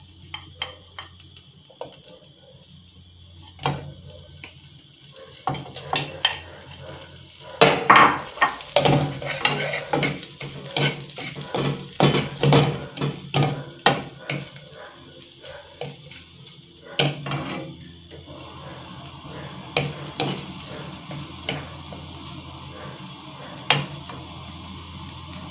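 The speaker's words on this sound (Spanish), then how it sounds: "Hemos echado un poquito de aceite y mantequilla chiquito. Lo vamos a sofreír un poco," Prawns sautéing in a little oil and butter in a small pan, cooked over very low heat, make a soft sizzle with irregular stirring and clattering that grows busier in the middle and then settles.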